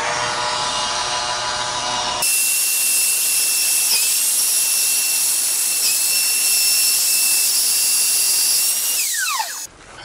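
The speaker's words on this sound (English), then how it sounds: "that whiteside router bit is doing a really nice job of giving us a smooth surface on the cylinder" A Whiteside router bit spins on a shop-built router lathe, cutting a wood cylinder with a loud, steady high-pitched whine that holds through the pass and drops away at the end, with a brief dip in the tone midway.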